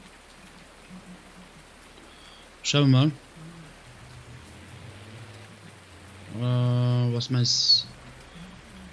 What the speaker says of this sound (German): Regnet wie die Sau.